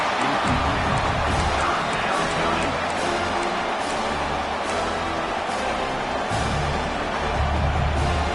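A large stadium crowd in the NCAA 26 football video game roars steadily on third down, a dense wash of cheering and noise with no pauses.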